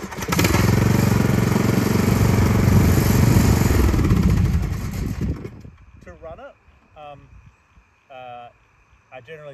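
A ride-on mower engine cranks on the key and catches, running loudly and steadily for about five seconds before cutting out, followed by a person talking.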